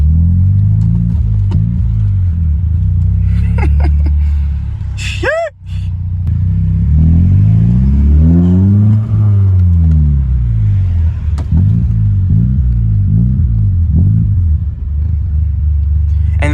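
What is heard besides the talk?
car with custom exhaust driving and revving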